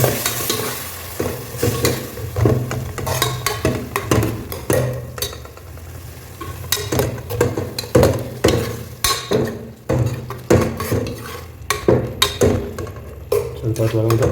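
Yogurt being stirred into a biryani mixture in a pot, a close, repeated run of wet scraping and sloshing strokes with a steady, uneven rhythm throughout.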